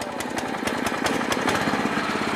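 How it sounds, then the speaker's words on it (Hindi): A power tiller reaper weeder engine runs after a single kick start, a loud, close, rapid chugging putter with steady rhythmic firing pulses and no voices. "अरे भाई साहब सिंगल किक में ये स्टार्ट होता है वीडर"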